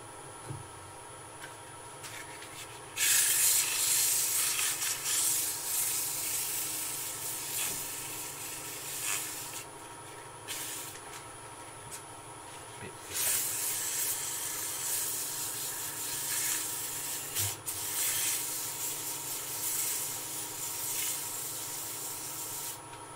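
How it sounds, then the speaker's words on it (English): A wood lathe turning a goblet, with broadband rubbing, sanding-like hiss of tool or abrasive on spinning wood, steady throughout with louder bursts and brief pauses, close and fairly loud. "Stop the lathe, stop the lathe."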